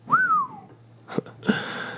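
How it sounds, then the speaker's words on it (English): A person whistles a single rising-then-falling note, clear and fairly close, followed by a couple of soft thumps and a faint background hum. "They walk in and look around, and one of them whistles."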